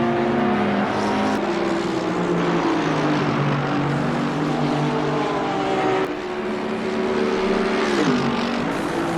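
Race cars in Assetto Corsa Competizione at Circuit Zandvoort, including a Porsche, droning loudly and continuously with shifting engine pitch as several cars run close together, a brief dip partway through.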